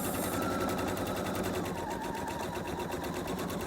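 A sewing machine runs steadily, stitching a quarter-inch quilt seam on a quilt block, its rapid needle chatter continuous and close with no pauses and no talking.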